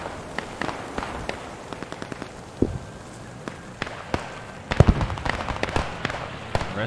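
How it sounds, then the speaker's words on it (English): Artillery shells burst in a World War II ladder match, sharp broadband cracks landing irregularly across the scene, with a heavier cluster of close, loud impacts near the end over a steady battlefield rumble. "this is definitely commander artillery, not mortars"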